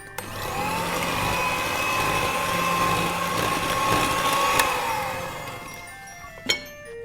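Electric mixer beating gingerbread cake batter with milk in a home kitchen, a steady close motor whir held for several seconds, then winding down with a small clunk near the end.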